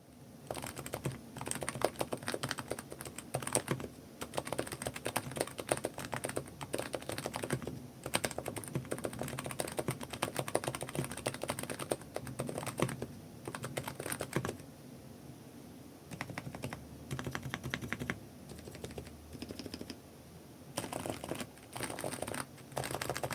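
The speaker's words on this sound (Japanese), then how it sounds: "かなり静かでかつ EC スイッチらしいスコスコとした打鍵音になっていると思います" Keys clatter softly in a long, steady run of quick typing on a quiet keyboard with EC switches, with a few brief pauses between bursts.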